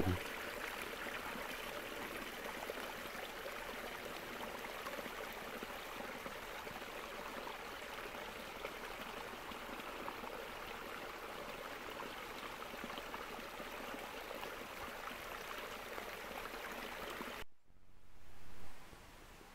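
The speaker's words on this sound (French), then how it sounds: "Je tombe sur une toute petite, un tout petit ruisseau." A small forest stream trickles and babbles continuously through snow, a soft steady wash of water that cuts off abruptly near the end, leaving faint quiet.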